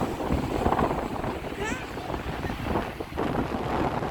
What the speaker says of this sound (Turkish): Huu, çok rüzgar var.